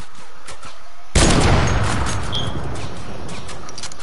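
In the video game Combat builder, a sudden loud burst of gunfire hits after a second of quieter game ambience, followed by a dense, rolling wash of shots and explosion-like noise that slowly fades without dying out.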